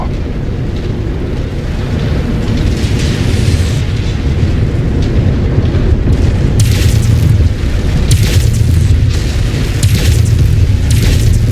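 Loud, rumbling missile explosions and heavy impacts in the MechWarrior 5 video game, a continuous roaring blast texture with sharper bursts of crackle toward the end and no talking.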